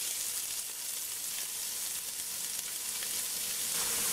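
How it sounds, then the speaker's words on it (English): Onion frying in hot oil with rendered pigtail fat for a Trinidad breadfruit oil down, giving a steady, close, bright sizzle that crackles continuously for the whole stretch with no voices over it. "So to the hot oil now,"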